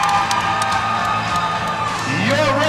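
A crowd cheers and whoops at a Muay Thai match before the fight, a broad roar sitting under an announcer who talks loudly over it throughout.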